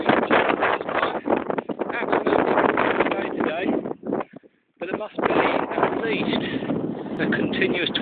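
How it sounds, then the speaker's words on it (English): Strong, steady 25-knot wind blowing down from the mountains on a mountain-bike trail near Torremendo, heard as loud continuous buffeting rumble across the microphone with a brief lull partway through. "a continuous 25 knot wind blowing from the mountains over there, just continuous."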